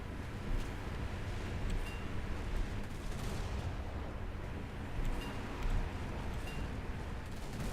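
Naval guns of warships in the War Thunder game boom in a dense, rumbling barrage, with heavy low thuds rolling together into a continuous roar at moderate loudness.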